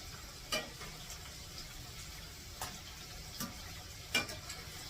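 Potatoes frying in a pan until crispy for a loaded potato casserole give a steady, quiet sizzling hiss broken by a few sharp pops and crackles.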